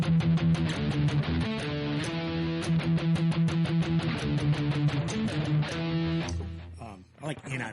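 An electric guitar runs through a Boss GT-1 Power Drive overdrive, giving a thick, crunchy tone as dense strummed chords and quick riffs play up close for several seconds, then the last chord rings out and decays.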